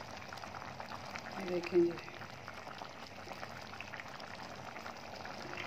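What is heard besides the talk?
chickpea rice pulao simmering, water boiling in pot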